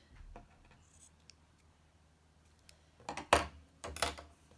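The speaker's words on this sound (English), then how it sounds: "I'm going to grab my scissors and I'm going to snip that end" A couple of quick, crisp scissor snips cut crochet yarn close by after a quiet stretch, with faint rustling before them.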